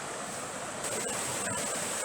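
High river water rushing into a mill's water intake, a steady broad hiss and roar of flowing water, close and continuous with no talk.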